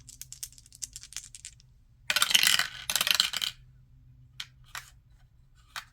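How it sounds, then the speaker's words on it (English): Three dice rolled together for a tabletop board game, giving a burst of clattering rattles that settles into a few scattered clicks near the mic. "I'm gonna give them a roll"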